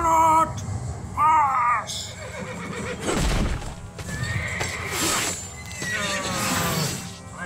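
Horse in an animated movie battle scene whinnying loudly in shrill rising-falling bursts, with hoofbeats, a crash and clashing action sounds around it.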